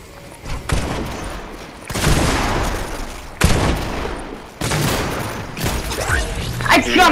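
Fortnite gunfire in loud, dense bursts of rapid shots, several volleys separated by short gaps, close and dominant with a player's voice under the shooting.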